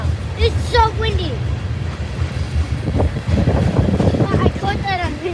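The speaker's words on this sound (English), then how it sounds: "It's so windy." Heavy wind pounds the microphone in loud low rumbling gusts beside a railway line while people talk over it.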